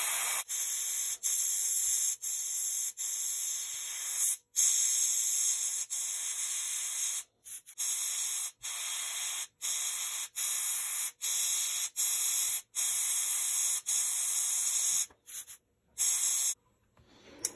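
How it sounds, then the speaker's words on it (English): Aerosol spray paint laying a light rust tone onto a metal plate, concentrated around the edges and bullet holes, in a run of steady hissing bursts separated by short pauses. "I'm gonna spray it especially on some specific spot, like around the edges or close to the bullet holes"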